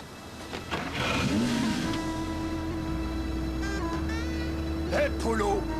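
A car engine revs under a steady low drone in a cartoon scene, with voices talking over it.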